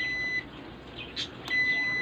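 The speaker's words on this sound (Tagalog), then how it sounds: "Pag shorted ang i-cap, magbabuzzer yan kabilaan dulo ng capacitor." Continuity buzzer of a multimeter sounding across a shorted electrolytic capacitor on the board of a Sharp Aquos 32-inch LED TV with no display, a steady high-pitched tone that drops out briefly and returns, close and fairly loud.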